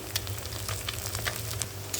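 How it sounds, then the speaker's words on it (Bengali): Two eggs frying in a hot pan, a close continuous sizzle with small crackling pops throughout. "এটাকে হালকা করে দেখো ভাজা ভাজা করে নেব"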